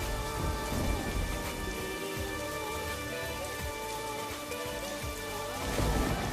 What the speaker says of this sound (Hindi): अचानक से जोर का तूफान आया और बारिश शुरू हो गई